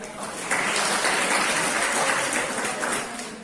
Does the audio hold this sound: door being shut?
no